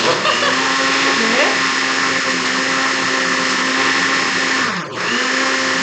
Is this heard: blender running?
yes